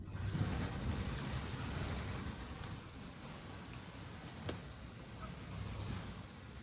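Strong wind buffets the microphone outdoors beside the water, a steady broadband roar with low rumbling gusts rising and falling throughout and no one speaking.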